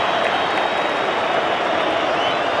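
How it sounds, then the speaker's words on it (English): A stadium crowd at an A-League soccer match between Sydney FC and Western Sydney Wanderers applauds a player's substitution, with dense, continuous clapping and crowd noise filling the air at a steady level. "Shinji Ono gets a richly deserved round of applause"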